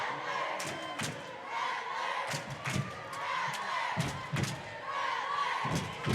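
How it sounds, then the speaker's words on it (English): Pumped-up crowd in a high school volleyball gymnasium, cheering and yelling in waves with sharp slams and thuds echoing off the hall, voices chattering in between. "Again, the crowd is pumped up."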